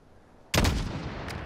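A single loud sniper rifle shot in Call of Duty: Modern Warfare cracks sharply, then rolls out in a long echoing boom that fades slowly.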